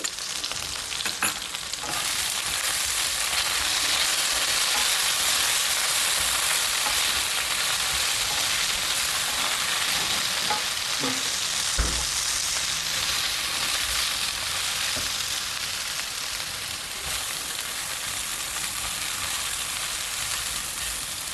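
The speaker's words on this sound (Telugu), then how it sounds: "వంకాయలు ఫ్రై చేసుకునేటప్పుడు కొంచెం 1/2 స్పూన్ అంతా సాల్ట్ వేసుకోండి." Eggplant pieces fry in oil in a pan for vankaya kothimeera pachadi, giving a loud, steady sizzling hiss throughout with a couple of faint utensil clicks and no talking.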